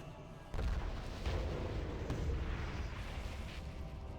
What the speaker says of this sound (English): Detonate the explosives and let's get out of here.